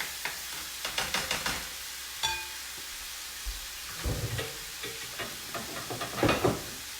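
Shrimp cook in a pan while a utensil stirs them, with a steady sizzle under scattered clicks and scrapes. The sounds are close and moderately loud, and nobody speaks.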